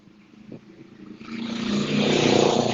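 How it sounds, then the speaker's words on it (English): A motorcycle engine approaches and grows steadily louder, a rising roar that fills the last second and a half as the motorcycle draws close. "There's a motorcycle."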